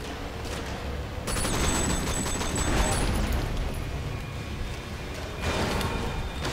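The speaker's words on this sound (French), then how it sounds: "Wow, explosion malade." Explosion in the open-world action game Sleeping Dogs: a loud, sustained rumbling blast with crackling debris that swells, eases off, then surges again near the end, with no talk over it.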